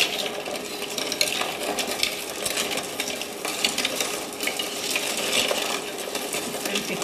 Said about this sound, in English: You need to stir it so that rock sugar will melt